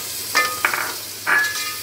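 Tomatoes being stirred into sizzling prawns in a pan, heard as three short scraping bursts over a low frying hiss, close and fairly loud with no talking.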